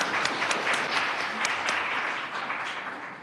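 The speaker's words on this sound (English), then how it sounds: "We can give her a round of applause." Steady applause from an audience at a Milwaukee County Board of Supervisors meeting honoring a community member, a dense even wash of clapping that holds and gently tapers.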